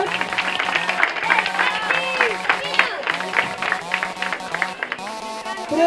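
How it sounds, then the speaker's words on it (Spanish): An audience applauds children at a club swimming awards ceremony, steady clapping under a loudspeaker voice and crowd noise in a reverberant hall. "Fuerte el aplauso para estos niños."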